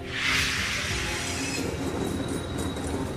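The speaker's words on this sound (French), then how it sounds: "Un train à crémaillère accroché à la montagne qui s'élève centimètre par centimètre." A cog rack railway tram of the Tramway du Mont-Blanc climbs a steep mountain line with a steady rumble of wheels and machinery, plus a faint high whine, heard alone and fairly close.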